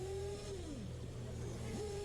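An electric 1/8-scale Techno RC buggy races through a track crossover, its motor whining and rising and falling in pitch as it speeds past, faint amid steady track background noise.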